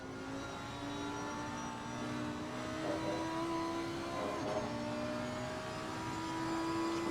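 GT3 race cars, a Porsche and a Mercedes, racing on track in Assetto Corsa Competizione: a steady, sustained engine drone with rising and falling revs as the cars accelerate, heard alone without talk.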